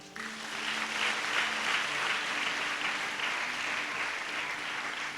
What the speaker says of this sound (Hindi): इस प्रतिज्ञा के लिए सब लोग ताली बजाएं।